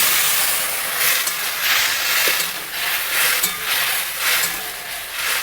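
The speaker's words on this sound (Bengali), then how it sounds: "আমটা ফুটে গেছে" Green mango boiling in a pot of water with turmeric for a fish-roe chutney: a steady, close, hissing bubble that swells and eases in soft waves, with no voices.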